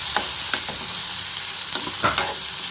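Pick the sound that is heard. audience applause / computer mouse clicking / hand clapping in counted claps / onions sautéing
onions sautéing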